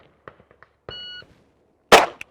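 A single sharp, loud gunshot cracks at close range during live-fire range practice. It follows a few faint clicks and a short, steady electronic beep.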